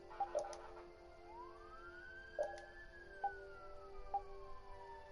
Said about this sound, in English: sorry if you're hearing the sirens in the background